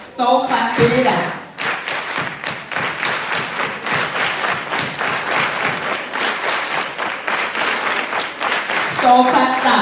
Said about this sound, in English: Over here, soul clap it out.